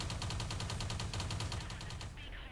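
Rapid gunfire from a World of Tanks Modern Armor match, a fast steady burst of close, loud shots running nearly the whole moment before cutting off.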